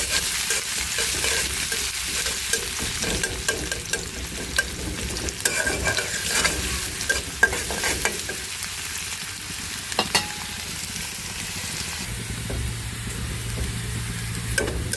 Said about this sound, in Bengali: ডালের জন্য পেঁয়াজ আর রসুন ভাজতেছি